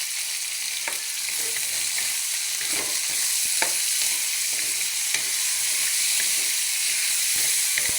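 Chicken wings sizzle and fry in a pan as they are sautéed, a loud, steady crackling hiss with occasional stirring clinks and scrapes close by and no voices.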